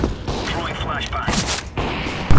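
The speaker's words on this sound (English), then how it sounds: "Throwing flashbang." A flashbang grenade thrown in a video game, heard as a few sharp, loud bursts and gunfire-like cracks over steady game noise, with voices talking throughout.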